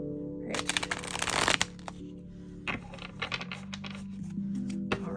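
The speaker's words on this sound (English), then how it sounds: "let me just actually give this a quick shuffle, a proper shuffle here" A deck of tarot cards is shuffled by hand, with bursts of quick riffling and flicking followed by scattered soft taps and slides, close and fairly quiet.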